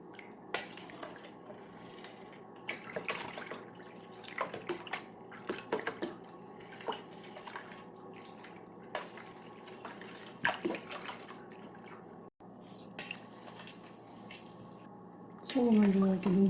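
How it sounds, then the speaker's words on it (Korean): Cooked flour paste is poured into cabbage water kimchi in a bowl, giving soft wet squishes, drips and light clinks that stay faint beneath someone speaking. "그다음 이제 풀 쓴 거를 이렇게 부어."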